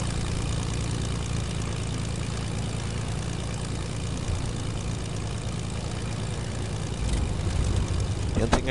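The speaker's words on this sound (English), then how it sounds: "The only thing I hate about late game airplanes is one, they're loud" A late-game propeller airplane engine in a video game drones steadily at a constant, buzzing pitch, loud and continuous with little variation throughout.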